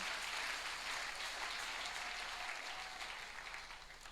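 A church congregation claps steadily for about four seconds, a dense wash of many hands that fades a little toward the end, with no voices over it.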